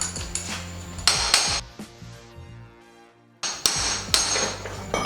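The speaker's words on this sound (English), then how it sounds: "you should be able to have another go at hammering it free" Sharp metallic hammer strikes ring out in uneven bursts while hammering a classic Mini front subframe part free, with a pause of ringing metal between clusters of blows.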